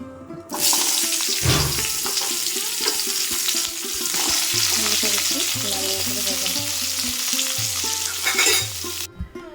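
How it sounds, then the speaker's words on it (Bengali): Raw cauliflower with a pinch of turmeric fries loudly in hot oil, a strong continuous sizzle from the moment it hits the pan, with stirring scrapes throughout and a brief low hum in the background. "এরপর আমি দিয়ে দেবো ফুলকপি এগুলো"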